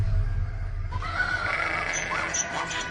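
An equine bray stands in for a donkey in a dramatized Bible reading, a loud drawn-out whinny that enters after a low rumble and carries on for about two seconds.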